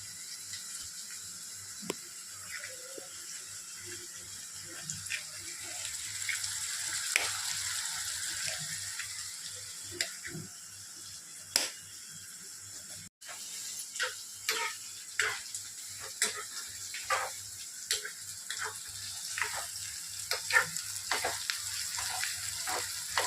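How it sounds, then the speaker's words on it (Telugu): Sliced onions fry quietly in a pan for an egg curry, a faint steady sizzle with scattered light pops and ticks throughout, heard close with no talk. "ఉల్లిపాయ కొంచెం ఎర్రగా వేగాలి"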